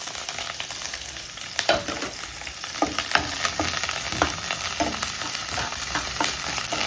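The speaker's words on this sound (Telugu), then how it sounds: "పచ్చిమిర్చి కరివేపాకు వేస్తాను." Green chilies and curry leaves hit hot oil with a loud, crackling sizzle, spattering pops and a spoon scraping and stirring through the pan, continuous and close with no voices.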